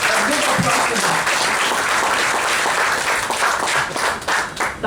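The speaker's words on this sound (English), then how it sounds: "So we really need to give a big applause to them." Applause for teachers at a college alumni annual meet: a dense, steady burst of many hands clapping from a sizable crowd, loud and continuous, thinning slightly near the end.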